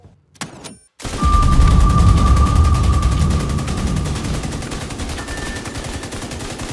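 Sustained rapid automatic gunfire from The Division 2 with a Pestilence build, loud and close, starting abruptly after a brief click and continuing in a steady rattling stream with a faint tonal hum.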